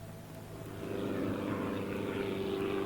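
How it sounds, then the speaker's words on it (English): A propeller aircraft flies over Victorian pine forest in 1960, its engine drone swelling from a moderate hum into a steady, fuller roar that holds to the end. "Aircraft were used to locate and direct foresters to trees that appeared infected."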